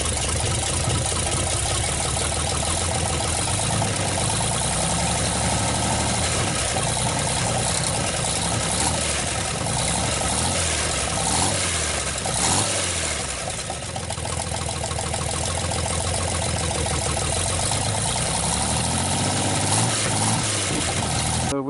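A GMC 305 V6 engine runs at a steady, loud idle with a rough, knocking mechanical rumble that continues throughout, close to the microphone.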